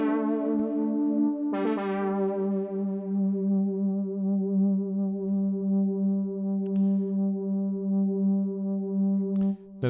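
A synth loop from a Native Instruments VST plugin in Ableton holds a steady, droning low tone with rich harmonics and a gentle pulsing wobble. A brighter attack enters early, then the tone sustains unchanged.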